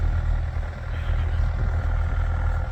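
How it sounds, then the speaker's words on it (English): A Kubota diesel tractor idles inside a building in cold weather, giving a steady, low rumbling drone that stays loud and unchanging throughout. "Got the Kubota in the building running because this cold weather will zap a battery, especially in a diesel engine"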